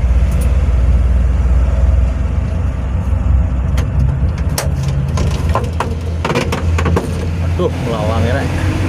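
An old 1984 Fuso truck with a 6D14 diesel engine and air brakes runs with a loud, steady low rumble, while sharp metallic clicks and knocks come through near the end.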